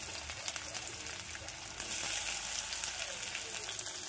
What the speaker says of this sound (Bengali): এবার আমি কড়াইয়ের মধ্যে কুচিয়ে কেটে রাখা পেঁয়াজটা দিয়ে দেব।